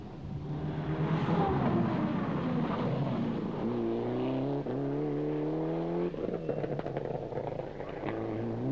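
A Mitsubishi Group N rally car splashes through water on a Belgian rally stage, its engine droning steadily and shifting gears with a constant wet hiss of spray, fairly close and without speech.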